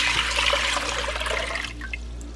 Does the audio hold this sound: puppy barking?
no